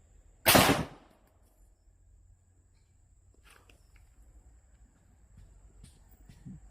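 A single loud, sharp gunshot cracks out near the start during amulet testing, followed by quiet background with faint scattered movement and distant noises.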